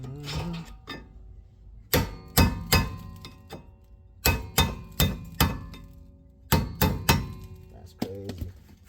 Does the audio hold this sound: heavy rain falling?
no